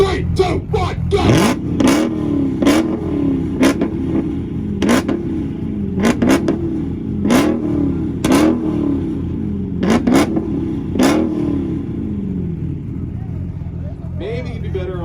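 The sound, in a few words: Dodge Hellcat widebody revving at a rev battle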